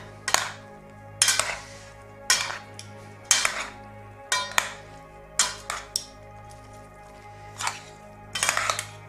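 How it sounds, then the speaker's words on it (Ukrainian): Mango and pomelo salad being tossed in a bowl, about nine separate scraping and clinking strokes of utensils against the dish at a fairly regular pace, close and clear with no speech. "Перемішати і покуштувати."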